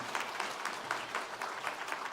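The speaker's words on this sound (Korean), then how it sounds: "환영의 박수 하겠습니다" A church congregation at a Sunday service gives a short welcome applause, a quiet, faint patter of many hands clapping with soft rhythmic peaks.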